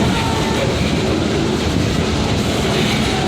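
Steady loud rumble and rattle of a moving train from inside a car, a dense continuous roar with faint rhythmic clacking of wheels on track.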